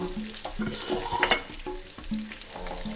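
Pumpkin pieces being stir-fried with egg in a pan, producing a lively close sizzle with repeated scraping and tossing strokes of the spatula at an uneven rhythm.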